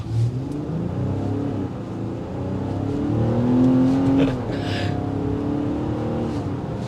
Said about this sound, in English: You hear the exhaust note, which is always a good little thing.